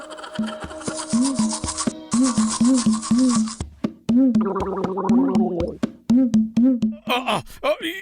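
A cartoon character brushes teeth with a rapid, rhythmic scrubbing that repeats in steady bursts, mixed with animated vocal sounds and a gargle-like tone, close and loud.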